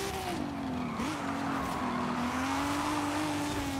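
Tires squeal in a sustained, wavering screech over a revving engine, a car in Forza Horizon 5 spinning all four wheels loudly and continuously.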